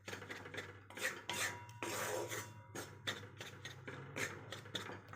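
Banana flour mixture being stirred while roasting in a pan over low heat, giving repeated close, raspy scrapes and rubs of the spoon against the pan in an irregular rhythm, fairly quiet, with no speech.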